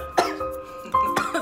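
A person coughs with a throat-clearing rasp, two sharp bursts about a second apart with a short vocal sound between, close and fairly loud.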